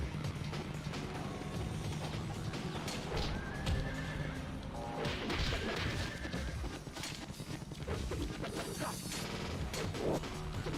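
A horse in the video game Ninja Gaiden neighs amid clip-clopping hooves, crashes and dense game sound effects and music, all loud and continuous with no talk.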